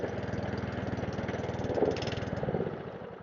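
A small lawnmower engine, a Webb WER41SP with a choke and a suspected carburettor fault, runs with a rapid steady putter close by. It surges slightly partway through.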